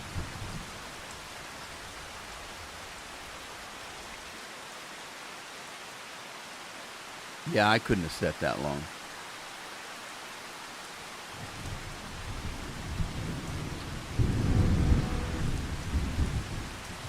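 Steady rain and rumbling thunder in the farming video game Farming Simulator 25, a constant wash of rainfall with a sharp thunder crack midway and heavier rolling thunder near the end, with a brief spoken remark.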